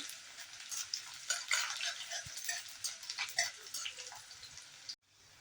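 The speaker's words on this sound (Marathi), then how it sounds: "तेल तापलं की लसूण घालायचं आहे आणि मग आलं घालायचं आहे. हे चांगलं तेलात फ्राय करून घ्यायचं आहे." Garlic and ginger fry in hot oil, a steady crackling sizzle with bursts of spatter and occasional scraping of a stirring spoon, close and continuous before cutting off abruptly near the end.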